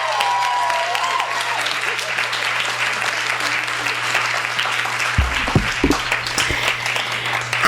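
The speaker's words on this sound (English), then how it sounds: "Let's please give a warm round of applause to one of my very favorite authors" An audience at an author's reading claps warmly and steadily for several seconds, a dense and fairly close round of applause, with a few louder knocks and shuffles near the end.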